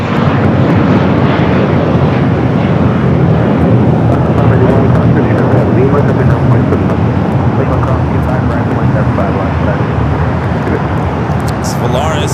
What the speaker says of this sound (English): A321 with American heading to Charlotte